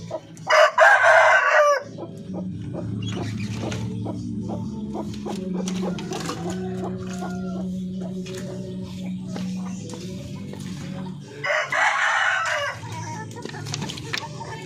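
Darag and white Parawakan chickens crow loudly in two bursts at the start and near the end, with steady clucking and farmyard murmur in between, and a voice speaking faintly underneath.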